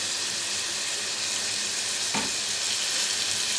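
Egg fried rice being stirred in a hot pan after soy sauce and vinegar go in, a constant loud sizzle with a brief scraping stir near the end.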